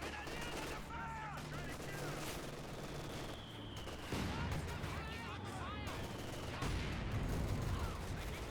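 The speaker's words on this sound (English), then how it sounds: "We're seeing some mortar hits there." In a Company of Heroes 2 match, mortar rounds strike amid continuous small-arms and machine-gun fire, producing dense, busy battle noise with several heavier thumps, while a commentator talks over the action.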